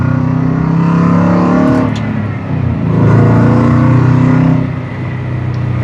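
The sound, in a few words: sports car engine on test drive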